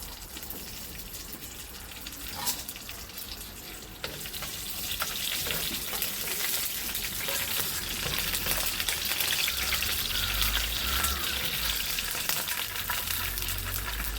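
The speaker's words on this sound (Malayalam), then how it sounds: "എണ്ണ ചൂടായിട്ടുണ്ട്. കടുക് ഇടുക കേട്ടോ." Mustard seeds and dried red chillies with curry leaves fry in hot oil for a tempering, a close steady hiss that grows louder and fuller midway, with faint crackles.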